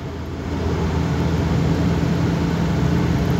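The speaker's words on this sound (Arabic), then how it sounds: "ولا عندي هاد صوت الريح اللي راك تسمع فيه" A steady rushing roar of wind fills a moving car's cabin, a constant broadband hiss with a low rumble beneath, growing louder with speed, no voices.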